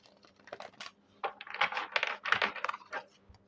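A deck of tarot cards is shuffled by hand, giving soft close riffling and slapping rustles in uneven bursts that grow denser toward the middle.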